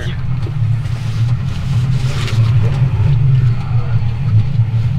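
A side-by-side off-road vehicle engine idles and burbles through an aftermarket exhaust with a steady low drone, close by, pulsing slightly as the throttle shifts.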